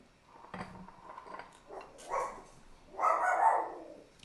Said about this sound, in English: You can hear our guard dog, Benny.